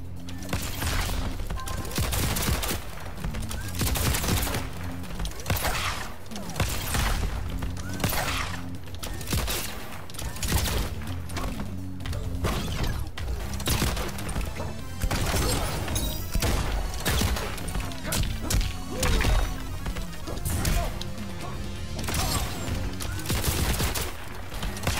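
RoboCop's guns firing nonstop in Mortal Kombat 11, a dense barrage of rapid gunfire bursts over a booming game soundtrack, loud and continuous throughout.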